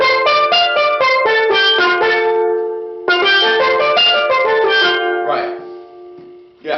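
Steel pan ringing through an F pentatonic scale, quick bright notes climbing then descending in two runs with a short pause between, close and resonant, with a few trailing tones at the end.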